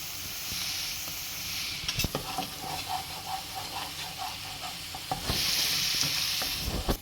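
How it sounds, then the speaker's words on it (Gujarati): Garlic chutney sizzling and frying in hot oil while a spoon stirs it steadily, with a continuous hiss and a brief louder scraping burst near the end. "દેવાનું છે જ્યાં સુધી એમાંથી તેલ છૂટું ના પડે, જેથી લસણનો ટેસ્ટ કાચો ના લાગે ચટણીની અંદર. તો ત્યાં સુધી આપણે એને ગરમ કરીશું."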